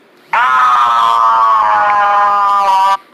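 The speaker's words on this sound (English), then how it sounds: "My apologies, that is my alarm." A loud electronic alarm sounds as a single sustained tone for about two and a half seconds, bright and harmonic, then stops abruptly.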